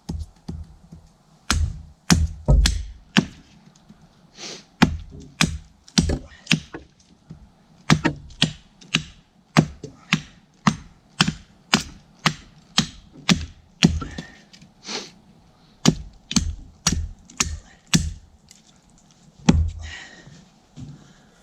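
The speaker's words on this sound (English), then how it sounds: "let's try trimming this into a point" A CRKT Woods Chogan tomahawk chops wood into a point, giving a long series of sharp, close, loud impacts in irregular bursts with short pauses between groups of strikes.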